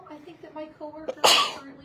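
A single sharp sneeze bursts out loudly near the end, cutting across someone speaking at a Rotary meeting talk about a food pantry.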